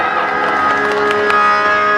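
An audience at a religious discourse gathering claps steadily to welcome a tabla player, a dense, continuous wash of applause with crowd murmur mixed in.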